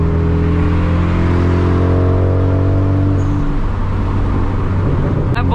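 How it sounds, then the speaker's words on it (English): A straight-piped Genesis Coupe's exhaust drones loudly and close, holding a deep steady rev before dropping into a rougher, crackling burble as the throttle eases off. "This car makes all sort of spicy sounds."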